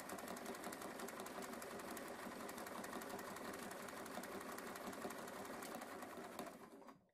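Sewing machine fitted with a walking foot stitching through a quilt, a fast, even, close mechanical chatter that holds steady and then winds down and stops at the end.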